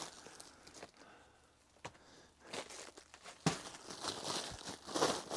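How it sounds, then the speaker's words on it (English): Linesman's pliers bite through flexible helix ductwork in a quiet indoor space, giving a few sharp crunches and crinkling rustles that build louder toward the end, close up, with no talking. "Take my linesman's pliers and cut this off."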